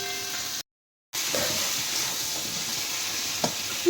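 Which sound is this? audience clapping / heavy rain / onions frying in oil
onions frying in oil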